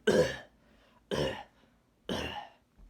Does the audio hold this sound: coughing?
yes